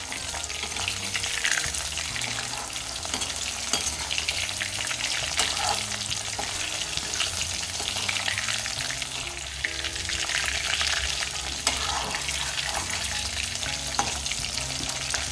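Chicken pakoras fry in hot oil over a medium flame, a steady close crackling sizzle with occasional stirring clinks and bubbling, continuous and without talk.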